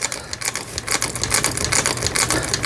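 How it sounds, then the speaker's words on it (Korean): An antique gold-decorated Singer 12K fiddle-base hand-crank sewing machine stitches after repair, a fast clattering mechanical chatter of needle and shuttle in close, steady rhythmic bursts. "수리를 마치고 박음질하고 있는 영상이었습니다"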